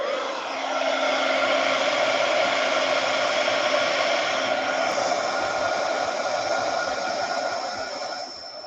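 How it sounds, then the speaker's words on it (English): A heat gun blows steadily for the whole stretch, a loud, continuous airy roar with a faint whine, used on an art craft project; no talking over it. "Okay, heat gun."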